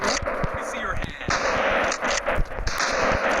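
Pump shotgun blasts in the video game Rope Hero, several sharp booming shots over a dense layer of game noise, with a person talking throughout.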